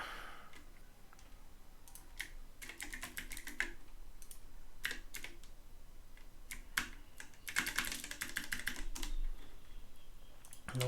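Keys clatter on a computer keyboard in irregular bursts, quick runs of clicks broken by pauses, fairly close and clear against a quiet background.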